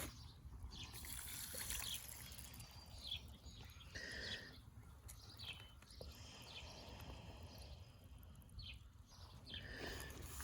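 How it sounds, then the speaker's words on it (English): Water is dumped off an over-watered garden plant, giving a faint outdoor trickle and splatter in several short spells over low background noise. "Let me dump some of this water off of this plant here."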